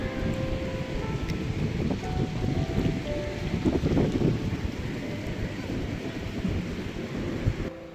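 Strong wind roars and buffets the microphone continuously, a dense rumbling noise with no pauses.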